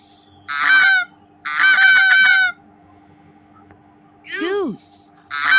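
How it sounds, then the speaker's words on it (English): A goose honks in four loud, nasal bursts close by, with short quiet gaps between the calls. "Goose."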